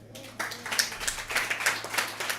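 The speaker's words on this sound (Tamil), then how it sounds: "கைத்தட்டுங்க." A sermon audience claps their hands together in a scattered, moderately loud burst of many overlapping claps lasting a couple of seconds, with a faint steady hum beneath.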